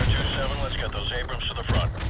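Rapid bursts of automatic gunfire from Call of Duty 4 Remastered rattle in the background while someone talks over them, with a heavier burst near the end.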